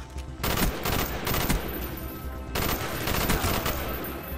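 Gunfire in Call of Duty: Black Ops, dense rapid bursts of automatic shots in two long volleys with a short gap between them, loud and close, no talk.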